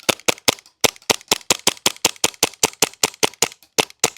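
A Novritsch SSP28 split-slide Glock-style airsoft pistol fires rapidly in semi-auto, about twenty sharp cracks in quick, slightly uneven rhythm with a brief gap early on, loud and close, no talking.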